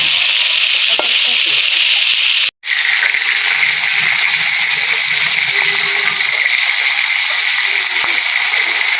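Steady, loud sizzling of a tilapia fish head frying in hot oil, with a brief cut in the middle.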